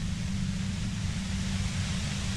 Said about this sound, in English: violent white noise becomes even more overwhelming closer to the compressor